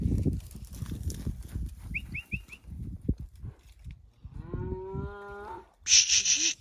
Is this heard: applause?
no